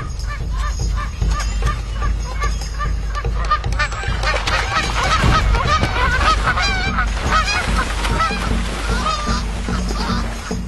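A flock of Canada geese honks loudly and continuously, many overlapping calls close by against a steady low rumble of wind or water.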